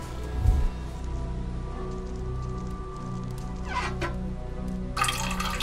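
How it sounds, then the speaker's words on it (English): In a video game, blood runs from a faucet after a valve is pulled: a steady liquid trickle and patter with brief splashy bursts, heard alone at moderate level. "Blood is coming out of the faucet."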